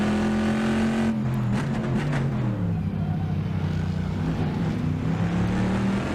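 A Trans Am race car engine in the Trans Am eChampionship sim racing game at Laguna Seca drones loudly, dipping briefly then holding a steady high-revving note through the last corner.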